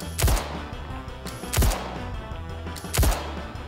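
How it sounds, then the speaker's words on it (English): Frag pistol gunfire in the video game Star Citizen, three heavy booming shots spaced roughly 1.4 seconds apart over a dense, continuous game soundscape. "Hey, but why not use the frag pistol, right?"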